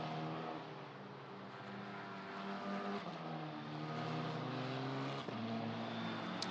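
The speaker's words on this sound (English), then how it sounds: "It was Ricky Liu going through in car 66" Car 66, a race car in the Italian Championship, is racing in Belgium. It passes on the circuit with a sustained engine drone and shifting harmonic pitch, a gear change near the middle and another pitch drop late, moderately distant and without talk.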